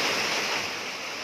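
The Pinilla River in Rizal in flood, a steady, loud rush of churning water roaring without pause, close by and unbroken by any voices.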